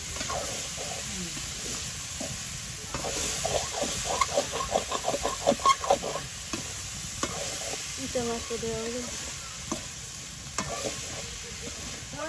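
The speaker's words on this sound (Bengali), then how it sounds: "সবগুলো একসাথে দিয়ে ভালোভাবে কষাই নেবেন।" Small river fish and marish amaranth greens are sautéed together for a village-style chorchori, with steady sizzling and a run of rapid scraping stirs, then slower stirring strokes, close and with no talking.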